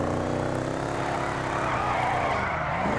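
A Rat Truck in GTA 5 oversteering and skidding, its engine droning loud and close with a continuous tire-scrub and skid, pitch bending through the slide, with no talk.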